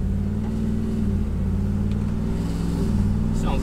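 A Ford F-150 pickup fitted with Shelby headers and a V-band exhaust idles with a steady, low, raspy rumble, a constant drone close by with no speech.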